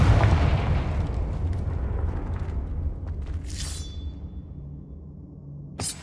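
A Confringo fire spell bursts in Hogwarts Legacy with a rumbling blast that fades into a low rolling decay, followed later by a sharp short crack.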